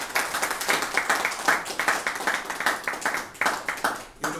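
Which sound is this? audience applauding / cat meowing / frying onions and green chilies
audience applauding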